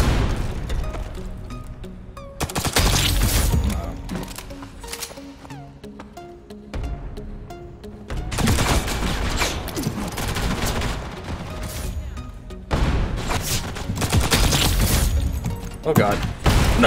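Rapid gunfire bursts and booming grenade blasts from the video game Ghost in the Shell, loud and dense in several waves, with a player's voice speaking over the action.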